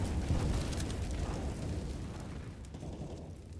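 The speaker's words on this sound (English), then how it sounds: "Throwing a grenade." A Counter-Strike grenade goes off in a loud, close rumbling blast that decays slowly over a few seconds.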